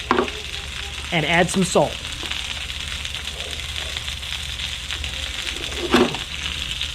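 Shishito peppers blister in a skillet with a steady, close sizzle, broken by a few scraping tosses; a voice speaks briefly over the frying.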